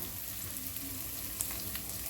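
Steady sizzling of onion and ginger sautéing in a hot pan, a dense crackling hiss with occasional louder pops, no voices.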